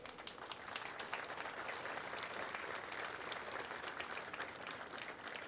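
Crowd applauding at a Workers Memorial Day gathering in Pittsburgh, sustained dense clapping from many people outdoors or in a hall, steady and moderately loud for several seconds.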